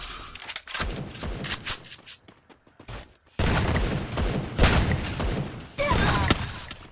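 Bursts of automatic weapon fire from the shooter game Free Fire, loud, sustained volleys separated by quiet gaps, with a few heavier booming shots mixed in.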